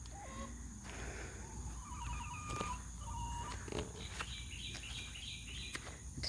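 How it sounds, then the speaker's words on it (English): Chickens cluck and chirp in short, scattered calls at a moderate distance, quiet and overlapping against a soft outdoor background, with no talking. "they are some beautiful chickens"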